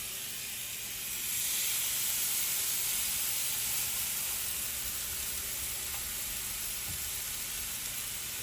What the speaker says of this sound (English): we're gonna add the steaks. Yes. I'm gonna set these suckers in here just like that. Gonna sear really nice.